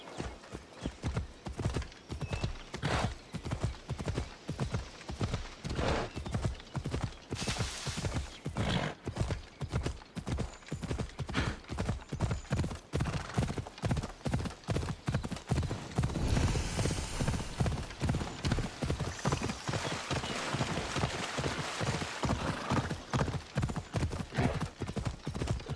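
A horse gallops in Assassin's Creed Odyssey, with loud, rapid, evenly rhythmic hoofbeats drumming throughout, a brief neigh partway through, and faint game music behind.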